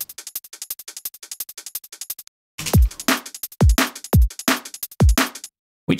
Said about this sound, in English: So now our hats sound like this.